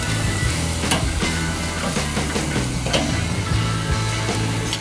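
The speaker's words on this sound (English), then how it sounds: "give them just a little bit of a sear before I pull them off" Costco lamb loin chops sear on a grill directly over hot charcoal, giving a steady, close crackling sizzle throughout, with a low humming drone underneath.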